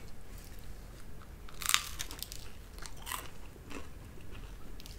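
Bites into a toasted Thomas' Original Nooks & Crannies English muffin, a sharp close crunch followed by a few softer crunchy chews, no talk.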